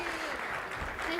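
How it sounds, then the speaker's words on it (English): Brief round of applause from a congregation at a family church service, a dense even wash of clapping with a voice faintly mixed in underneath. "everybody give them a round of applause"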